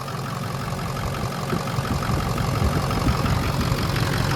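A rebuilt 6.0 PowerStroke diesel engine running steadily at idle, a loud, close, low rumbling clatter with an even, continuous knock throughout.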